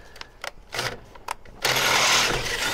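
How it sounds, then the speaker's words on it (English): An electric drill bores out a hole in metal while fitting DV8 accessories to a Bronco. A few clanks come first, then a loud, steady grinding whir runs close and continuous to the end, with no talking. "So just drill it out and, you know, it's only metal."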